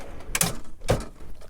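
Two short sliding thumps of a drawer in the cargo drawer system of a 2005 Lexus GX 470, one after the other, close and fairly quiet.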